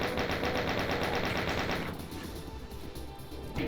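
Rapid, loud chaingun fire in a Doom map rattles in a steady stream for about two seconds, then cuts off into a softer echoing tail before another short burst near the end, with no talk.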